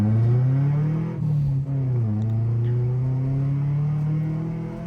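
A stock Nissan 240SX drifts with high wheel speed, its engine droning loud and close at high revs with brief dips as the car flicks in, then holding a steady, sustained tone throughout.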